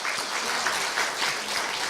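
At a university staff retirement ceremony, the audience gives the university president a burst of steady, close applause that fills the short stretch without a break.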